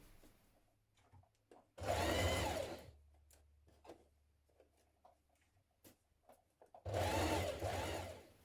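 A sewing machine stitching a bodice to a skirt with a 1.5 cm seam allowance on a 1970s vintage wrap dress. Two close, loud whirring bursts of stitching are separated by quieter handling noises and small clicks.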